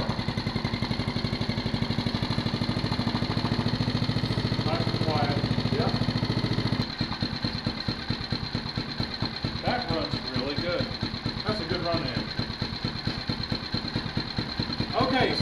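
A 2024 Phatmoto all-terrain motorized bike engine catches and then keeps running with a steady, buzzy small-engine idle. It is loud and close, and its pitch and level shift partway through. Voices talk over the running engine.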